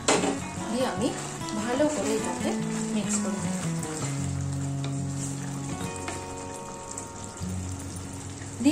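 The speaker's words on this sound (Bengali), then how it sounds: "এই যে ভেজে রাখা ফ্রেঞ্চ ফ্রাইসগুলো আমি এর মধ্যে এবার দিয়ে দেবো।" Fried French fries go into simmering gravy for crispy honey chilli potatoes, a steady sizzle and bubbling with stirring clatter in a kitchen, while someone talks over it throughout.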